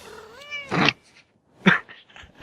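A cat meows in a played clip, a drawn-out, wavering call followed by two sharper, noisier bursts, close and loud with no talk over it.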